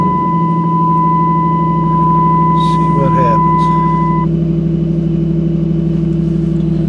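A 2007 Dodge Ram 4x4 truck engine running with a loud, steady low idle rumble close by, a steady tone and a brief clatter mid-way over it, no clear crank or start.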